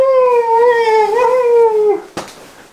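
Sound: large cat meowing

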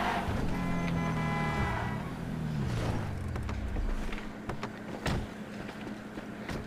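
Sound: car driving fast, from the video game GTA V

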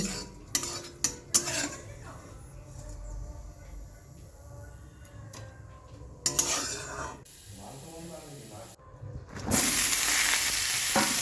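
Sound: neem leaves frying in oil

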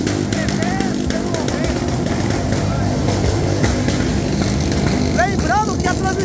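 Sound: motorcycle with 70mm OHC engine revving on a dyno

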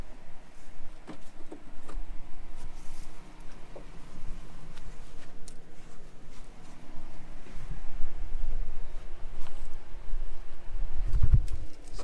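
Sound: birds, likely pigeons or doves, cooing near a planter

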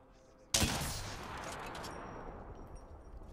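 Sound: gunfire in the video game Apex Legends

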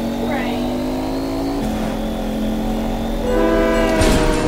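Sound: train passing with horn in Fortnite video game

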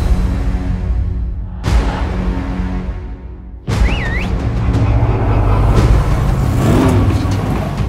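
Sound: taxi engine revving, the Chariot of Damnation

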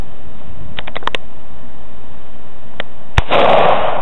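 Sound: gun being fired repeatedly

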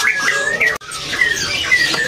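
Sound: white-rumped shama (murai batu) bird singing

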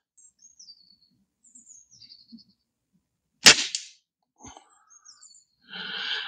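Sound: TX200 springer air rifle shot at 40 yards

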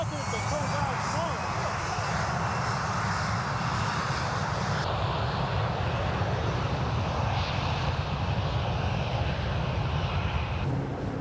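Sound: airplane flying past

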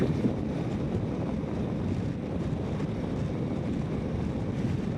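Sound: strong wind during motorcycle ride

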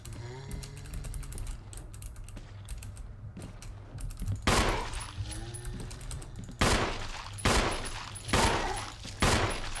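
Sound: gunfire from video game Resident Evil HD Remaster

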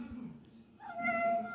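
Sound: cat meowing

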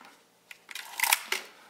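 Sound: Nikon F2A film camera film advance lever

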